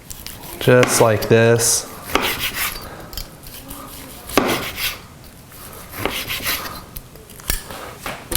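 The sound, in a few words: carving knife slicing roast beef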